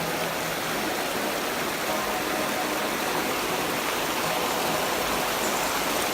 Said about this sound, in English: we're just crossing the river